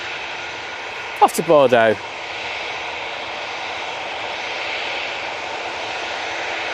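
An EasyJet airliner at Manchester Airport produces a steady, moderate engine rumble throughout, briefly interrupted by a short spoken phrase near the start.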